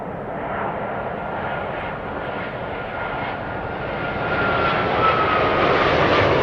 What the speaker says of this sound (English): Virgin Atlantic's A350, LAX, Los Angeles